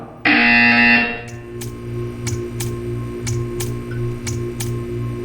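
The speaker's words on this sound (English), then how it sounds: "When you hear the buzzer, stare at the art." A loud, harsh buzzer from the game Portal 2 blares for about a second, then a series of sharp, evenly spaced ticks follows against a low background hum.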